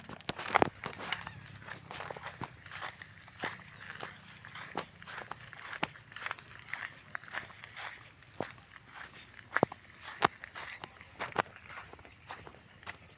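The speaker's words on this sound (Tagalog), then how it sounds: "naglalakad ako dito sa may bukirin" Steady footsteps on a rural farm field path in the afternoon, a walker crunching along at an even pace, close and moderately loud, with faint ambient noise and occasional sharper steps.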